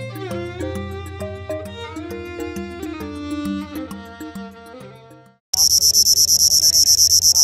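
A cricket chirps loudly and continuously at Mahur, a rapid pulsing trill that begins abruptly after a stretch of music.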